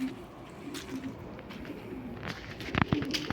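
Pigeons coo softly in a coop with their chicks, repeated low throaty coos and a few quick flutters over a steady background hiss, fairly close and at moderate volume.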